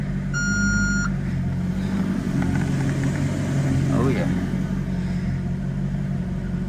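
A 2008 Maserati GranTurismo engine runs in gear during transmission service, giving a steady low rumble throughout with a few brief electronic beeps and a voice speaking over it.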